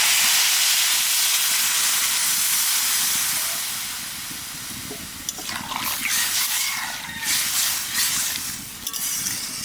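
Water poured into a hot pan of vegetables sets off a loud, rushing hiss of steam that holds strong for several seconds, then eases into uneven bubbling and sputtering bursts.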